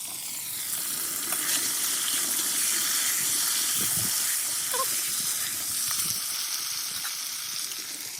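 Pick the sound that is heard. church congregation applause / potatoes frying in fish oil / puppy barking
potatoes frying in fish oil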